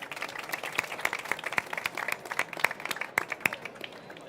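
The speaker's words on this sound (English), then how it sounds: "Big round of applause for the panel on corporate" Conference audience applauding a panel on corporate innovation, a modest crowd clapping with sharp, distinct individual claps over a soft wash of applause.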